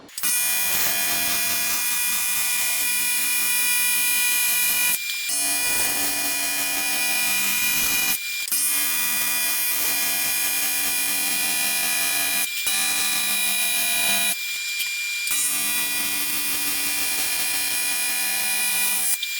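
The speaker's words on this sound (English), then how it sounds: "We'll go in here and weld this one up next." Welding during car fabrication on an SBF 427 engine build, a steady loud buzzing arc sustained in long runs and broken by several short pauses between passes, close up.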